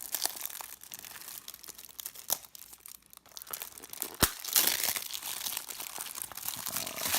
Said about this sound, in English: Alright, now we're ripping.